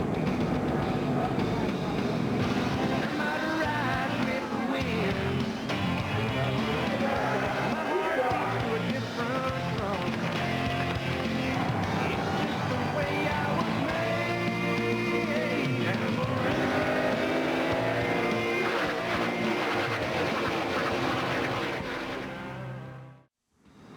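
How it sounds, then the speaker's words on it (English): NASCAR Winston Cup race cars roar around New Hampshire International Speedway during the 2003 New England 300, a dense, continuous engine drone that rises and shifts in pitch as the cars pass, fading out abruptly at the end. "New Hampshire International Speedway for NASCAR Winston Cup Racing"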